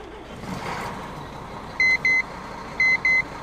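A Volvo FH12 truck's startup warning buzzer in Euro Truck Simulator 2 gives two pairs of sharp electronic beeps over a low engine idle, loud and clean against the steady hum.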